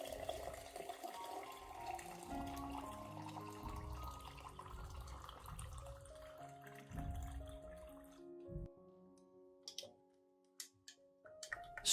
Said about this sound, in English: Then add about 500 milliliters of warm water